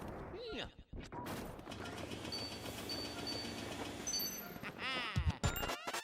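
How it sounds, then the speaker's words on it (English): Neighbors' fireworks pop and crackle in a rapid cluster outdoors at around 6 p.m., with sharp bangs rising over a dense, steady background; a burst of louder cracks near the end. "I already got my neighbors popping off fireworks"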